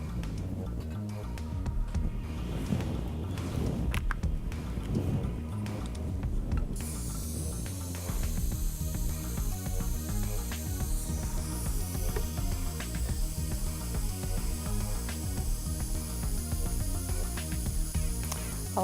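A torch hisses steadily while heating a jewelry piece before rose gold solder goes on, with light metallic clicks and handling noises, and a brighter hiss comes in partway through.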